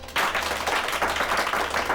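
A small group claps together in quick, uneven bursts for about two seconds, fairly close and moderately loud.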